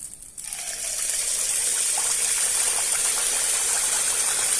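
Batter for Kannur muttasirka pours into a pan over a low flame, giving a steady close-up gushing hiss that swells after a quieter opening and then holds on evenly.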